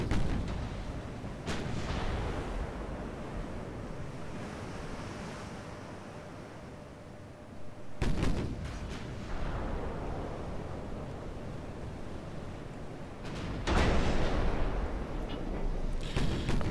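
Warship naval guns fire in a game of Ultimate Admiral Dreadnoughts, a casemate ironclad like CSS Virginia, sounding as three heavy booms spaced several seconds apart, each trailing into a long rumbling wash of sea and wind noise.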